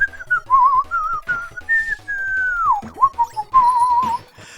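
A person whistles a wavering tune with a trill on held notes, loud and close, with a long sliding note that drops midway and quiet music beneath.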